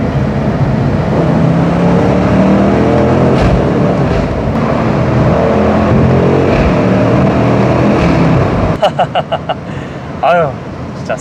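A BMW M850i Gran Coupe accelerates hard with a loud, deep engine roar that builds steadily, then breaks into several quick pulses as gears change near the end.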